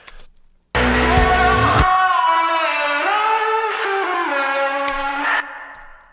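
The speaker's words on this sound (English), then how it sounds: "you can see that the reverb is being printed into the file" A harmonic, tonal sound, likely a sung or synth line, drenched in heavy reverb and echo printed into a mono file, with a lingering wash that tails off after the notes stop.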